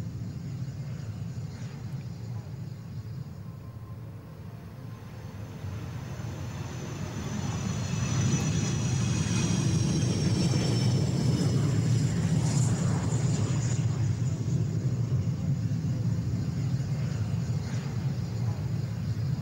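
Military aircraft landing at the RIAT 2004 air show, a broad jet roar that swells from moderate to loud and sustained rumble with a thin whine riding on top, heard from the crowd line.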